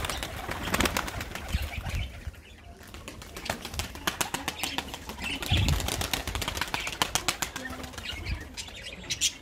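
White pigeons and budgerigars in a backyard aviary flutter and flap their wings in repeated bursts, with soft chirps and coos mixed in, heard close by in a busy, uneven patter.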